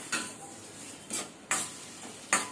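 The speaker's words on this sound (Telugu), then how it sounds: "ఇవన్నీ వేసి బాగా వేయించుకోవాలి." Ingredients for a tomato chutney fry in oil in a pan. A spoon stirs them in four distinct scraping strokes over a soft, steady sizzle, close and fairly quiet, with no talking.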